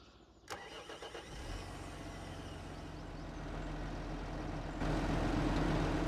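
A Lamborghini in Farming Simulator 25 starts up with a click and a cranking engine, then settles into a steady mid-pitched engine drone that grows louder as it pulls away, with no talking.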